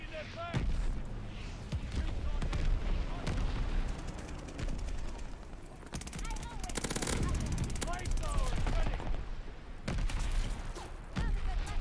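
Call of Duty Vanguard match with a bombing run: machine-gun bursts and gunfire crackle almost nonstop alongside booming explosions, while players talk excitedly over the battle.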